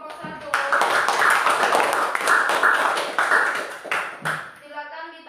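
Classroom applause for a student group, a dense burst of clapping hands that starts abruptly, holds for about three and a half seconds, then thins out before a voice speaks.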